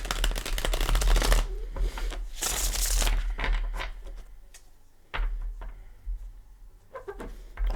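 Tarot cards being shuffled close by, a dense riffling rush followed by softer sliding and shuffling sounds, with a few sharp snaps.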